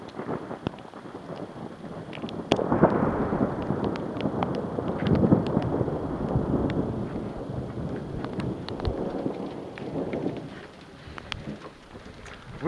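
Low, rolling rumble of distant thunder swelling and fading over steady wind noise buffeting the microphone, with faint bird calls in the background.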